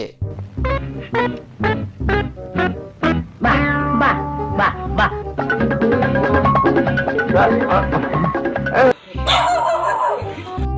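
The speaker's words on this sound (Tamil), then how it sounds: "ஒரு நாய் மண்டபத்துக்குள்ள வந்து கல்யாண மேடையவே கலவரமாக்கிடுச்சு" A dog barks loudly and repeatedly inside a wedding hall, a run of sharp close barks that gives way to a dense crowded din of voices and commotion.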